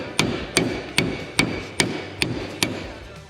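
Seven evenly spaced sharp metallic hammer blows strike a socket resting on the jaws of a bench vise, loud and close, each ringing briefly before the next, with no talking.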